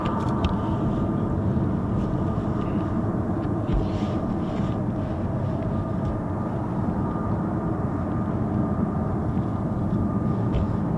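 F-35B stealth fighter jet with a Rolls-Royce lift system, a steady, loud broadband roar of jet engine noise sustained throughout, with no voices over it.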